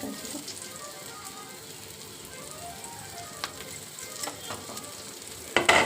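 Pomfret fish sizzles in a frying pan, a steady soft crackle and hiss of hot oil, fairly quiet and close, with a few sharper pops and a clatter near the end.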